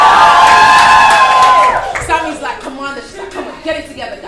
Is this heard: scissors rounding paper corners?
no